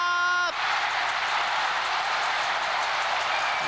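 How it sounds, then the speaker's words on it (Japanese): A huge crowd at Tokyo's National Stadium roars in a sustained, loud cheer during a 1995 soccer penalty shootout against Nagoya Grampus, swelling and holding without a break, right after a brief whistle-like tone at the start. "わーというものすごい歓声"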